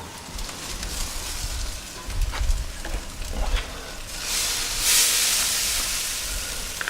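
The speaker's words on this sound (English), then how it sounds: "It's time to spritz and rotate the brisket." Short hissing spritzes from a spray bottle hit a Texas-style brisket in a smoker running near 340 degrees, heard as a few close bursts with sizzling and handling noises between them.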